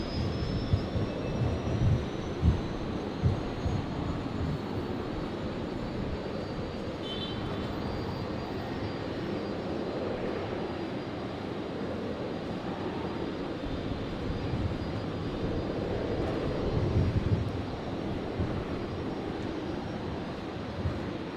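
A jet aircraft at Brisbane International Airport, roughly 650 to 700 metres away, gives a steady, moderate roar that holds for about twenty seconds and swells slightly near the end, with no talk.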